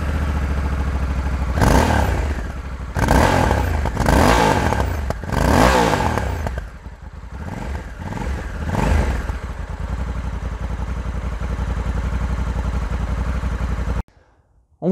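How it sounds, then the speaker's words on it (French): Honda Africa Twin 1100 parallel-twin motorcycle engine revved hard in five rising bursts, each swelling and falling back, then settling into a steady idle before cutting off abruptly near the end. "le twin parallèle de la Honda qui chante un peu plus fort et un peu mieux"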